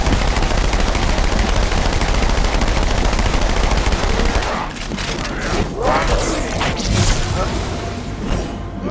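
Rapid SMG fire from the Halo 2 game rattles in a loud, dense stream for about four seconds, then gives way to scattered shots, impacts and crashes of combat.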